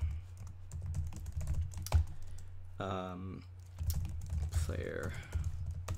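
Keyboard typing of code for an enemy movement script in a GML game tutorial, a steady patter of key clicks running through the clip with brief speech and a short tonal sound partway.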